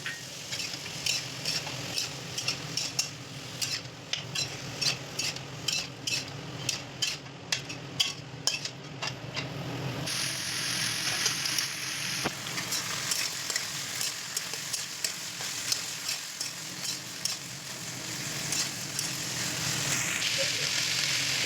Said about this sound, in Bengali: এবার এতে কেটে রাখা শিম ও আলু দিয়ে দেব।